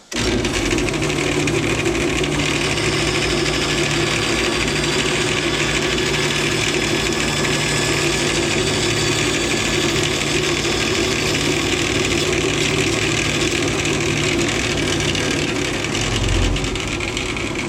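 Power saw making a straight taper cut through a wooden rail or stile, a loud, continuous, unvarying drone that runs the whole time with no pauses.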